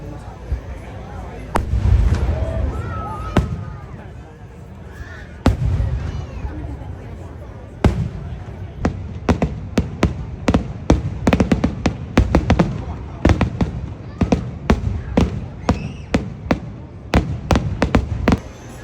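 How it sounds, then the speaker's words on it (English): Fireworks at a show burst in a long run of sharp, loud cracks and booms, sparse at first and then coming in rapid, irregular volleys near the end, with crowd chatter and voices underneath. "the fireworks are absolutely fantastic. Good as always. Wish it could be longer"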